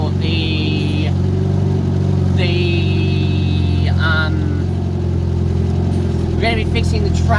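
A Leyland vehicle's engine drones steadily throughout while driving, with a loud continuous low hum and whir; a voice talks briefly over it, and brief high whistling tones come and go.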